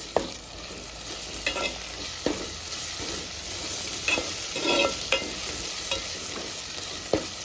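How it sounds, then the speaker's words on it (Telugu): Ginger garlic paste frying with browned onions in a pan, a continuous sizzle broken by repeated spoon stirs and scrapes at close range, with no talking. "కొంచెం పచ్చివాసన పోయేంత వరకు ఫ్రై చేసుకొని టమాటా వేసుకుందాం"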